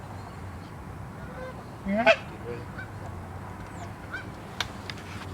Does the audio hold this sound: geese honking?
yes